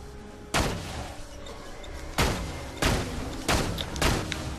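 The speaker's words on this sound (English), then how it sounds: "I should probably stop shooting things by now" Gunfire in the video game Borderlands 2, five sharp, loud shots spaced irregularly over a few seconds, each with a short ringing decay over a low game background.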